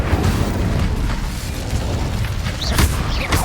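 A booming fiery blast from the Incendio spell in a Hogwarts video game, a loud rumbling burst that sustains for a few seconds, alone without talk.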